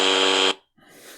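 Buzzer on a Coca-Cola CCSR1 FM Bluetooth and MP3 portable radio, a single loud harsh electronic buzz lasting about half a second, then cutting off to quiet hiss.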